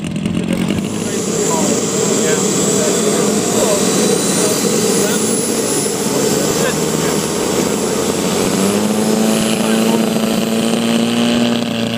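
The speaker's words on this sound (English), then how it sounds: "Another scale aerobatic aircraft coming out." An RC scale aerobatic model aircraft flies at a scale masters qualifying event, its engine a loud, continuous buzzing drone that shifts pitch slightly as it manoeuvres overhead.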